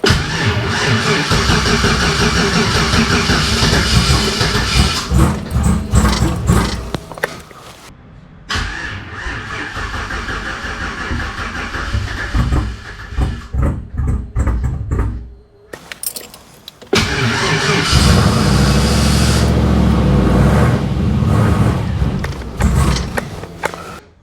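An engine cranks and starts after being given gas, loud rough running with several cut-offs and restarts, and a jangle of keys.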